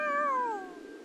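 Cat giving a single clear, fairly loud meow that falls in pitch and fades out after about half a second, alone with no talking.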